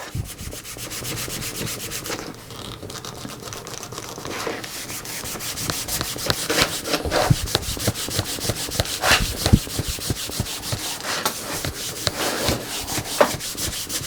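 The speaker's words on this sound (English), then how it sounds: "take a clean part of your cloth, a dry part, and we're just going to go over that surface again and give it a good firm rub" A dry cloth rubbed firmly over the edges of a handmade leather belt, producing a fast, continuous scratchy rasping in repeated short strokes, close and fairly quiet, with no talking.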